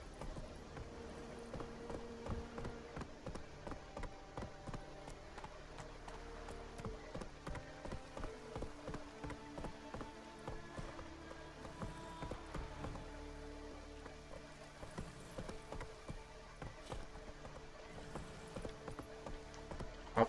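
Hooves clatter in a quick irregular clip-clop as a horse walks down stone stairs in The Witcher 3, steady hard knocks over faint game ambience and music, with no talking.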